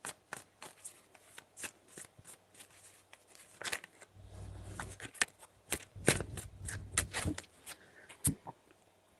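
Tarot cards being shuffled up close, with quiet scattered taps and slides giving way to a denser, fuller shuffling stretch in the middle before trailing off into light clicks.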